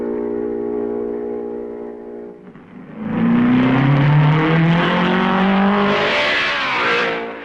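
Nino Farina's 1955 Formula 1 race car at the Belgian Grand Prix, Spa-Francorchamps, goes from a steady engine drone to a loud roar and a rising whine as it passes close by, with no talk.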